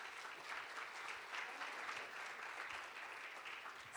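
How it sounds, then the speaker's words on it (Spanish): Sustained audience applause for a panelist at a Latin American innovation and investment conference, a dense, even wash of many hands clapping at steady volume throughout, with no voices over it. "Un aplauso, por favor."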